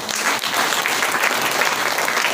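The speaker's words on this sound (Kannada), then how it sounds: "ಜೋರಾಗಿ ಚಪ್ಪಾಳೆ ತಟ್ಟಿ" Loud, dense applause from a church congregation at a Sunday service, a steady wash of many hands clapping at once, sustained and close with no clear voices.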